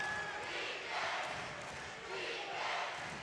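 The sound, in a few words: basketball crowd cheering loudly at the Convo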